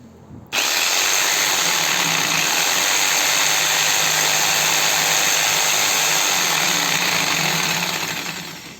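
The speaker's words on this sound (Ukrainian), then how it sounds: "Лобзик то працює, ми зараз провіримо." A ProCraft ST 1500 W electric jigsaw starts abruptly and runs steadily with a dense, buzzing whir, close and loud, winding down slightly at the end.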